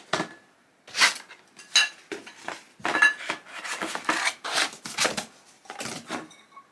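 Ceramic breakfast plates from a newly bought breakfast set clink and clatter as they are unpacked, a series of close, sharp knocks and scrapes in uneven bursts with short pauses between them.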